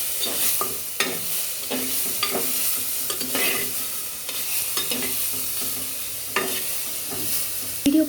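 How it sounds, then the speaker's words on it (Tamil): Medium tomatoes cut into pieces being stirred into a paste in a hot pan for mudakathan keerai soup: steady spatula scraping strokes over a continuous sizzle, close and alone throughout. "இப்போ இதை இந்த பேஸ்ட் கூட போட்டுக்கலாம்"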